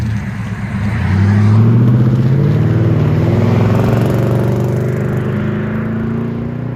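A 2019 Nissan Titan Midnight Edition SV pickup with a 14-inch Magnaflow muffler revs up, its exhaust swelling to a loud, steady drone that holds and then eases off slightly.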